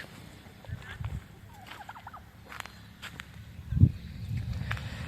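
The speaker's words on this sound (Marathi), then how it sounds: "बघा टर्की कोंबडी" A turkey gobbles outdoors on a farm in short warbling bursts, with a dull thump and some rustling nearby.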